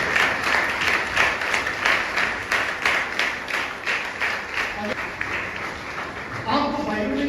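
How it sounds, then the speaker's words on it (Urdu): A church congregation bursts into loud, sustained applause, dense rhythmic clapping filling the hall for several seconds before easing slightly near the end. "اور یسوع سے بھی ایک دفعہ زوردار تالیاں بجائیں"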